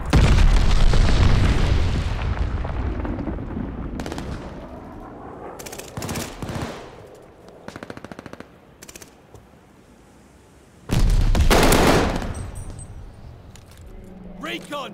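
Machine-gun fire and heavy glide-bomb explosions in the Call of Duty Vanguard video game, with loud bursts at the start and again near the end and sparser shots in between.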